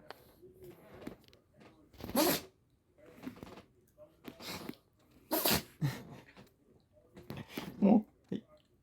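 A dog sneezes several times in sharp, loud bursts spaced a few seconds apart, with snuffling and breathing between them, close up indoors, while a person speaks quietly.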